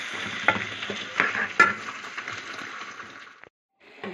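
Rice being stirred into a tomato sauce in a pan, with steady sizzling and scraping strokes that swell and fade over a few seconds before a short pause.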